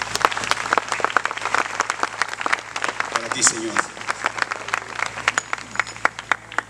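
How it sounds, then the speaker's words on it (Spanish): Congregation clapping at a Spanish-language Christian church service, a dense steady run of claps that stays loud throughout, with a voice speaking over it. "Dale un aplauso al Rey."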